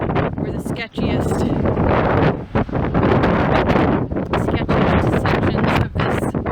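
Strong gusting wind buffets the microphone along the Big Sur coast during a bicycle tour, a loud continuous roar with brief dips, and a voice speaks faintly beneath it.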